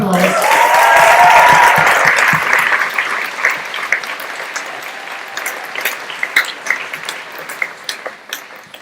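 Graduation ceremony crowd applause for graduates, starting full and loud with a whoop or cheer in the first seconds, then tapering into looser, sparser clapping.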